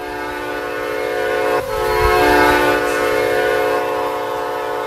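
A Metra commuter train in the Roblox game RO-Scale Sandbox blasts a loud, sustained multi-tone horn that runs for nearly five seconds, with a brief dip partway through and no talking.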